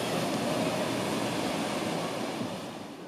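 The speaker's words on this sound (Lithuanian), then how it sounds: "Pasirodo, čia dar krioklys." Water from a waterfall in Glacier National Park rushes steadily, a broad, continuous roar heard close and fairly loud with no voices.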